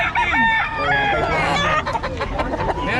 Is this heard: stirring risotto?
no